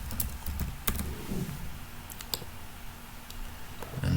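Typing a layer name on a computer keyboard in ArcMap produces scattered clicky keystrokes, fairly close and light, with pauses between short bursts over a low background hum.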